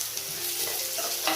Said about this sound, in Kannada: ಇದನ್ನು ಒಂದು ಸ್ವಲ್ಪ ಫ್ರೈ ಮಾಡ್ಕೊಳ್ಳೋಣ.